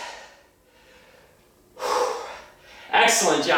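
Heavy breathing during a home workout, a couple of loud, sharp gasping breaths up close after a quieter stretch.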